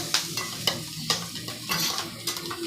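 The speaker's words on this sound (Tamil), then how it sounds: "அந்த முட்டையை நல்லா கலக்கி வச்சுட்டு" Eggs are beaten in a bowl for a bread omelette, with brisk repeated clinks of the utensil against the bowl about twice a second. The sound is close and fairly loud, with no voices.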